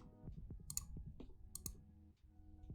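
A mechanical keyboard spacebar fitted with an MX Silent-type switch, pressed a few times in a row: soft, close clicks spaced about a second apart over a faint steady background hum.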